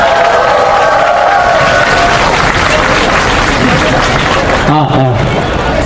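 Crowd applauding at an outdoor candlelight protest rally in front of a KT building, a dense steady clatter of clapping throughout, with a brief voice near the end.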